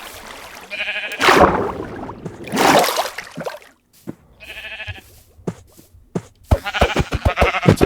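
Sheep bleat in the Minecraft video game, with two separate wavering bleats among splashy footstep and movement noises, close and clear.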